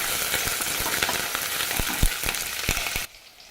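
Fennel seeds, cumin, pepper, cinnamon, cloves, cardamom, poppy seeds, curry leaves and green chilies sautéing in a pan for a vegetarian curry, a steady close sizzle broken by sharp scrapes and stirring clacks before cutting off abruptly.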